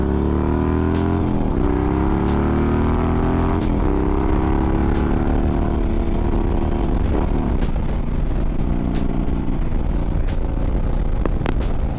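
A motorcycle revs hard and accelerates close by, its loud engine note climbing and dropping in repeated surges with no pauses across the whole stretch.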